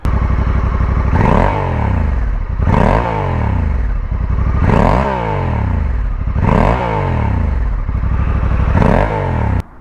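A 2024 Honda Africa Twin CRF1100 motorcycle exhaust revved repeatedly, five loud rising throttle blips swelling and dropping back to a steady idle, close and continuous.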